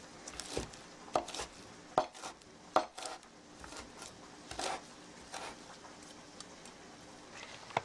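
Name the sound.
chopping a bunch of basil with a knife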